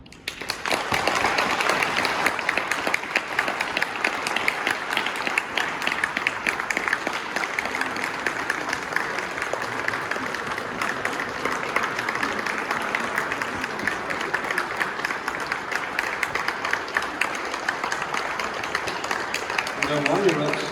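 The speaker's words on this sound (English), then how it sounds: "While you're up standing and clapping" A standing audience applauds steadily at an anniversary gathering of a society, the dense clapping continuing at even loudness for the full stretch without pause.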